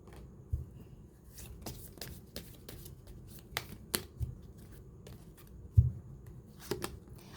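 Tarot cards being shuffled close up, soft riffling and flicking with sharp taps spread irregularly over several seconds, quiet overall.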